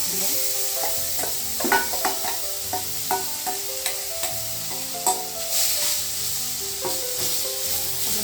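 Grated papaya sizzles steadily in a pan for halwa while a spoon stirs and scrapes, a continuous close frying hiss punctuated by irregular soft knocks.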